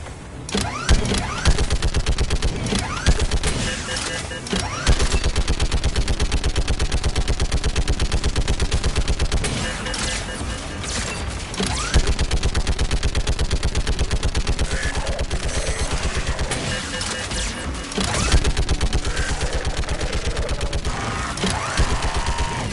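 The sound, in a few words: AA gun firing in Mass Effect 3 video game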